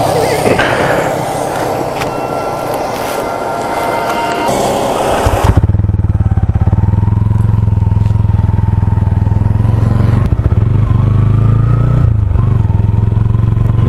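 A TVS Ronin motorcycle with dual-channel ABS pulls away and rides along a road in light rain, its engine droning loud and steady close by after some wind and clatter at the start.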